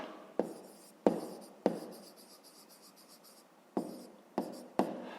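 A pen or pencil writes numbers by hand on paper for a fifth-grade math exercise, heard as sharp taps and scratchy strokes in irregular bursts, close and quiet, with no talking.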